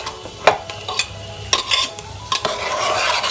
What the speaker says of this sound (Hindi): इसी तरह हमें चलाते हुए इसको जब तक भूनना है